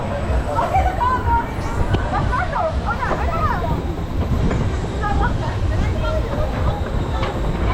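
A theme park ride train sits at the station at Toverland, its rumble and rattling running under a crowd's chatter and nearby talk.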